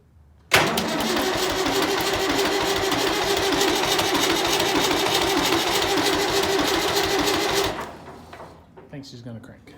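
A 990 engine cranks over on a chilly day, bursting in abruptly and holding a loud, steady, rough mechanical roar for about seven seconds before dropping away, with a few faint knocks after.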